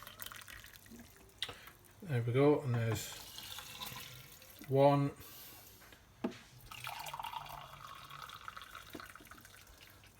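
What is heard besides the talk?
pouring boiled water from a kettle into a cup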